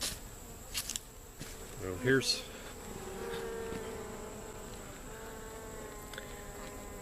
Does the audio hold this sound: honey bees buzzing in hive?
yes